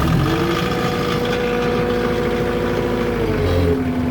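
A 2000 New Holland LX665 skid steer diesel engine runs steadily after starting, a loud, close, rough idling rumble with constant tone throughout.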